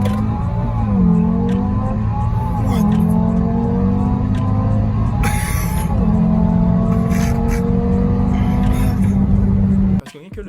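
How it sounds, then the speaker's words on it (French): An Audi RS3 five-cylinder engine accelerates in a steady, loud drone whose pitch rises and falls through several gear changes, with voices talking over it and a sudden cutoff near the end. "tu entends une RS3, ça sonne un peu V10 puisque c'est un demi-V10"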